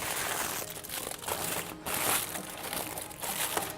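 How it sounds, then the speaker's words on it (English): Aluminium foil crinkles and crackles as it is peeled off a tray of seitan pastrami in a home kitchen, a close, steady papery rustle with a few louder crunches. "So we've removed the foil."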